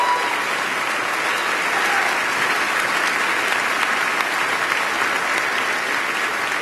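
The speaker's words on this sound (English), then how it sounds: "How about a great round of applause for all of our 4 finalists?" Sustained audience applause at a 2013 awards ceremony honoring four finalists, steady dense clapping from a large crowd lasting throughout without a break.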